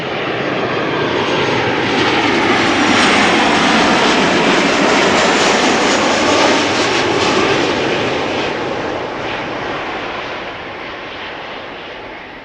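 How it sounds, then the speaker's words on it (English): A Qatar Boeing 777 taxiing at Amsterdam Schiphol produces a loud, steady jet engine roar that swells slightly, then slowly fades over several seconds, with no voices. "You could see the Qatar, the Qatar 777 already on the move."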